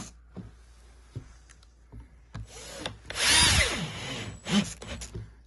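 A power drill drives short screws into a wooden kayak, SUP and canoe storage rack, several short whirring bursts followed by one longer close drive that winds down slowly at the end, with light handling knocks between.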